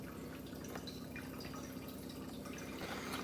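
Water running from a household tap in a steady, faint hiss-like stream, continuous and unbroken throughout, heard at a distance in a quiet room.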